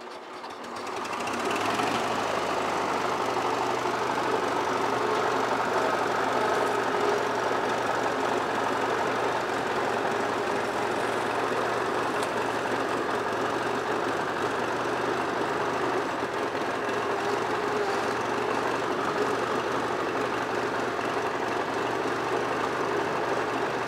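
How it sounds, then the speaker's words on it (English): A skid steer's engine runs steadily and loud while it slides a replacement Wisconsin VF4D four-cylinder engine out, a continuous mechanical drone with a rattling, knocking texture that holds throughout with no talk. "Skid steer is pulling out its replacement engine."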